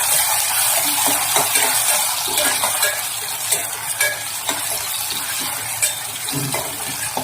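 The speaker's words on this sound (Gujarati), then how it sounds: "બટેકા થોડા સોફ્ટ થાય ત્યાં સુધી આપણે તોડી લેવાના છે" Chopped potatoes being stirred and broken up as they fry in a pan with asafoetida and curry leaves, a steady soft sizzle with repeated scraping and clinking of the spoon against the pan throughout.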